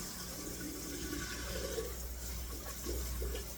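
Potatoes being rinsed under running water in a home kitchen while preparing Sunday dinner, a steady continuous rush of tap water with no talk.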